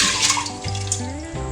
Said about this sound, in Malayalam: ഞാൻ 2 കപ്പ് വെള്ളം കൂടെ ഒഴിച്ചിട്ടുണ്ട്